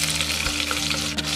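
Mustard seeds, cumin and green chilies frying in hot oil in a pot, a steady close sizzle with a faint crackle and low hum throughout, no voices.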